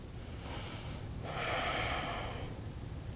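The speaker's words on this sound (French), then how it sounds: "Encore 2 respirations ici." During a beginner yoga session, someone takes slow, deep breaths close by: a soft inhale, then a longer, louder airy exhale over a quiet background, with no talking.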